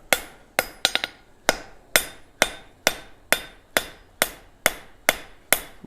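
Hot steel at yellow heat is hammered to put a bevel down both sides, giving a steady series of sharp, ringing blows about every half second, close and loud with no talk, including a quick flurry near the start.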